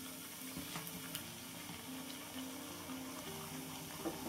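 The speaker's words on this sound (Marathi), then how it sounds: "छान आपण तेलामध्ये फ्राय करून घेऊ" Vadas made from coarse ground flour frying in hot oil, a faint steady sizzle and bubble that runs the whole time with light stirring clicks and no talking.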